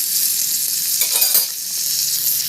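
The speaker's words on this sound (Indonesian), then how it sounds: "Kemudian dioseng-oseng ayamnya dengan bawang dan cabai." Chicken stir-fried with onion and chili in a pan hisses with a steady bright sizzle, and a few scraping stirs rise briefly in the middle, close and without talk.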